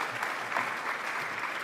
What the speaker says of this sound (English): We give her a bigger round of applause.